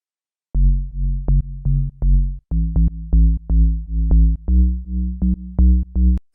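A deep FM bass made in the Serum synthesizer, with envelope automation, plays a rhythmic sequence of short, punchy notes with a gritty, evolving tone, loud and alone.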